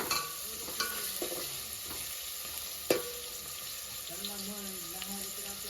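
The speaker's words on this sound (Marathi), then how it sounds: "हो कांदा जरा किती वेळ तळायचं कांदा?" Onions frying in a pan at home while being stirred, a soft steady sizzle with occasional scraping and clinks of the spoon, heard faintly under a voice talking.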